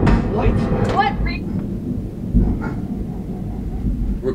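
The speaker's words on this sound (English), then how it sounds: "Yo, this is raining crazy right now." A thunderstorm with heavy rain gives a deep rolling rumble of thunder over a steady wash of rain. Brief voices and noise come at the start.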